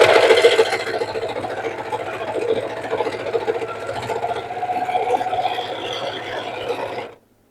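A sewing machine stitches and trims small fabric scraps, its steady whirring motor running continuously at close range for about seven seconds before stopping abruptly.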